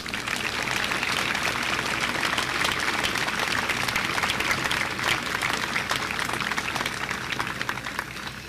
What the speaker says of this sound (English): give everybody a big round of applause